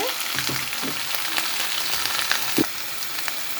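Cumin, ginger, onion and garlic pastes frying in a pan for a beef and potato curry, a steady sizzle with occasional stirring scrapes and soft knocks, no speech.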